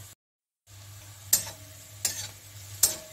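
Onions frying in a pan for a quick home-cooked curry, a steady low sizzle broken by three sharp scrapes of stirring, after a brief silent gap at the start.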